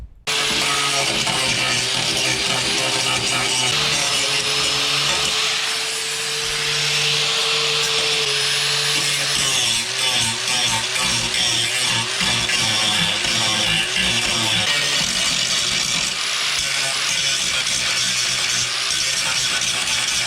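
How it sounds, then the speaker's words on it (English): An angle grinder works over old factory spot welds on the rocker panel area of a Mercury Sable station wagon, a loud, sustained whine and rasp with slight pitch dips as it presses into the metal. "Now we're going to come grind up above to put our next piece in, the remains of where these spot welds were from the factory"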